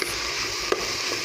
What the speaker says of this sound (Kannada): ಇವಾಗ ಮೇಲೆ ಕೆಳಗೆ ಇದನ್ನು ಕೈ ಆಡಿಸೋಣ ಫ್ರೆಂಡ್ಸ್. ಕ್ಯಾಬೇಜನ್ನು ನೋಡಿ ಈ ಥರ ಇದು ಚೆನ್ನಾಗಿ ಹಸಿ ವಾಸನೆ ಹೋಗೋವರೆಗೂ ಹುರ್ಕೊಳ್ಳೋಣ